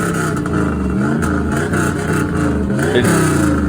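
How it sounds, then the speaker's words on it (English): Up close, a car engine revs hard through its exhaust, the tone harsh and raspy with a constant metallic rattle riding on each rise in pitch, steady and loud throughout with no one talking. "it sounds like it's just rattling like galore"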